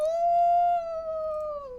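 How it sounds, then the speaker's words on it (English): A lone wolf howl rises to one long, steady, clear tone and then slowly falls away, fairly close, with nothing else around it. "I hear A wolf howl."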